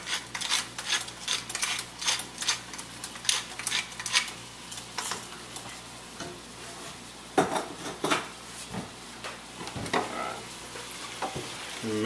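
Chicken fried rice being stirred in a pan with a utensil, with steady frying sizzle under repeated scraping and clattering strokes against the pan, close and continuous without talk.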